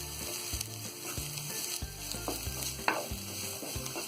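Bell peppers lightly frying in a pan for Chinese bhel street food, a steady hiss and sizzle with rhythmic spatula strokes and clatter against the pan.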